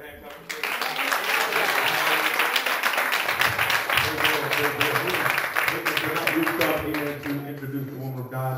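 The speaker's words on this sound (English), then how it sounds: "Come on, clap your hands for this great speaker" An audience at a women's church conference claps for a speaker: dense, steady applause swells in after half a second and carries on to the end, with a voice talking over it.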